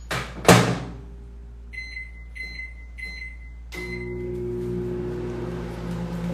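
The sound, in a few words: microwave oven running while cooking a mug cake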